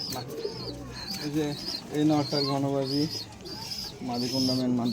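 Pigeons on an abandoned rooftop loft keep up soft, repeated cooing close by, partly overlapped by someone talking.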